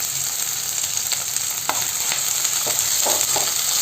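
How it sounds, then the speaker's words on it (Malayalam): Finely chopped onion and curry leaves sauté in a hot pan for curry, a steady bright sizzle broken by a few scraping stirs, close and with no talk. "സവാള നല്ല നൈസായി അരിഞ്ഞിട്ടുള്ളതാണ് അതൊന്ന് ചേർത്ത് കൊടുത്തിട്ട് നമുക്കൊന്ന് വഴറ്റിയെടുക്കാം"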